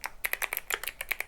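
Quick, crisp keystrokes on a mechanical keyboard, about a dozen clicky taps in a fast irregular rhythm, close and alone.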